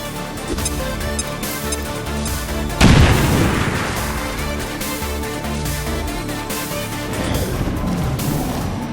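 A grenade explodes in XCOM 2 as one loud sudden boom about a third of the way in, standing out over a steady bed of game music and ambience that continues around it.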